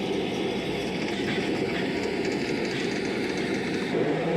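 A train in a Japanese-style railway driving game runs steadily on its rails, a continuous dense rumble with a faint rhythmic clatter, heard alone at a constant loudness.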